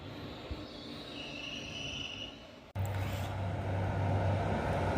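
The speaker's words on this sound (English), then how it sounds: "Train passing now is the delayed 1903 Manchester Piccadilly to Barrow in Furness, working 1 Charlie 57" Passenger train on the Manchester Piccadilly to Barrow in Furness service passing, a steady rumble with wheel squeal, then a sudden jump to a louder, nearer roar with a low hum, no voices.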